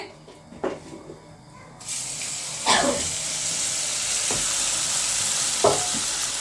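Tender jackfruit pieces drop into hot coconut oil and set off a loud, steady sizzle, with a few clinks and stirring knocks punctuating the continuous frying hiss.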